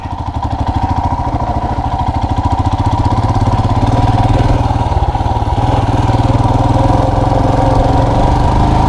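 Motorcycle engine running steadily throughout a short evening ride, a loud, continuous low drone with rapid firing pulses and wind noise, with no pauses or gear changes evident.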